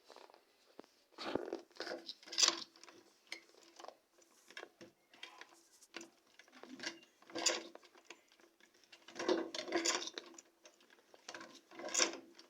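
A sewing machine stitches a box bag in repeated short bursts of rapid mechanical whirring, separated by brief pauses, fairly close and clear.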